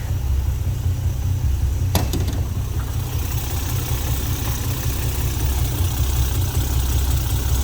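A 1984 Alfa Romeo GTV 3.2L engine idles steadily with a deep, rumbling low hum, close and constant, with one brief sharp click early on.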